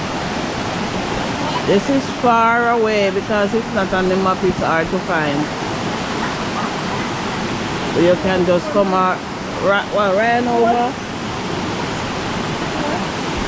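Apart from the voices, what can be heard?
Stewart Mountain River flowing, St Mary, Jamaica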